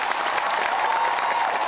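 Audience applause for the president at a forum in Kazan for over 1000 children of a youth movement, a steady, dense roar of clapping from a large crowd that continues throughout and cuts off abruptly at the end.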